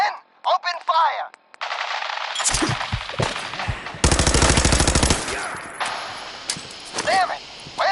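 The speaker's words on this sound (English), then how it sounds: "Men, open fire." Rapid machine-gun fire and gunshots in the video game Fallout 4 rattle in dense bursts, mixed with shouted voices and other game sounds.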